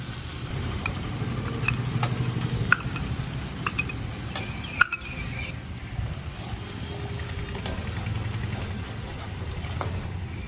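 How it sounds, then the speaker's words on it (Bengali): Cashew and poppy seed paste sizzles steadily with spices in a hot pan over low to medium heat, a continuous crackling hiss with occasional scrape and clink of a spoon stirring. "এবার কাজু পোস্তর সাথে মশলাটা ভালো করে একটু কষিয়ে নেব।"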